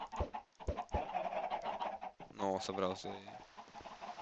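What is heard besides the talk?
baby chicken clucking in video game Minecraft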